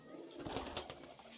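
A white-eyed pet pigeon coos softly in a fancier's loft, a few low murmuring calls rising and falling, faint and fairly close against a quiet background.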